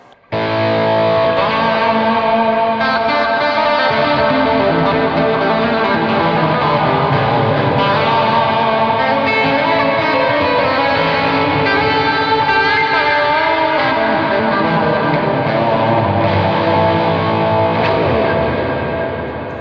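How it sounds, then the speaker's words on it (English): Electric guitar bowed with a violin bow through an amp drenched in heavy delay and reverb, a continuous loud swelling ambient wash of sustained layered tones with no talk. "So it's a very delay and reverb heavy sound, but that's perfect for playing with a bow because it really creates a crazy sort of ambient soundscape."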